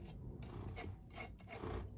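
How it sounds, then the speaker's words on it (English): Seeds being scraped out of a watermelon with a cake tool, giving repeated close rasping strokes in short bursts, each a wet, gritty scrape against the flesh, with no talking. "So just scraping the seeds out."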